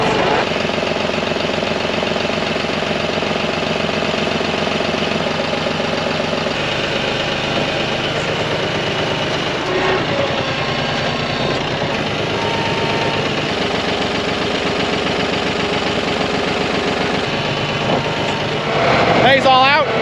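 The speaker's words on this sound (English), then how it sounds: "Let's get this tractor on up to the farm next." A farm tractor engine runs steadily at a horse boarding facility, a constant low idling drone throughout with a brief louder surge near the end.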